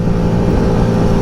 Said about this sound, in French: Donc là on est à 60, gaz en grand, c'est parti.